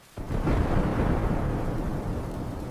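A deep rumble of thunder on a stormy night, rolling in suddenly and loudly, then holding as a broad, sustained roar without voices.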